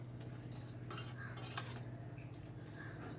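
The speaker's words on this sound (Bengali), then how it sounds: "দিয়ে আবারও সব কিছু ভালো করে মিশিয়ে নিচ্ছি" Red amaranth greens with fried shrimp and eggplant being stirred in a pan, soft scraping and clinking of a utensil over a low, steady sizzle, quiet and close.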